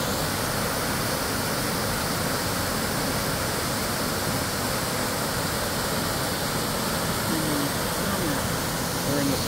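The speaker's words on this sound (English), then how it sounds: "This is our second waterfall on our trip here" A coastal Oregon waterfall pours in a steady, close broadband roar that stays even and unbroken throughout, with no pauses or shifts in intensity.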